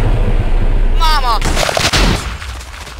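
A loud, booming explosion in the Minecraft video game, a sharp blast that rumbles and fades over a couple of seconds.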